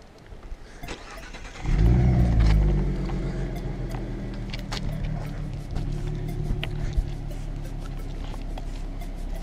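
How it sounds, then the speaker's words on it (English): Cold start of a 2016 Mustang with a twin-turbocharged V6, a few soft clicks, then the engine cranks and catches loudly and settles into a steady, deep idle. "now let's hear a cold start"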